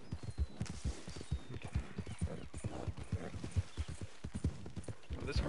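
Steady galloping hoofbeats from a horse ridden in Red Dead Redemption 2, a rhythmic close clip-clop running throughout at moderate volume.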